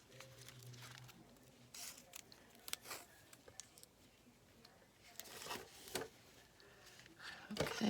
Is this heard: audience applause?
no